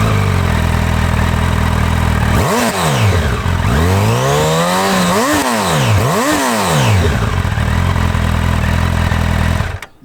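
A 2025 Honda CB1000 Hornet SP, an inline-four motorcycle with a massive exhaust, runs loud and close. It idles, then gets a series of sharp throttle blips that rise and fall, settles back to idle and cuts off at the end.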